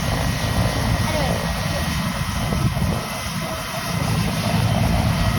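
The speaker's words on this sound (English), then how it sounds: "Today we're watching a helicopter take off." Helicopter lifting off, a steady broadband rotor and engine roar filling the scene at close range, with people talking over it.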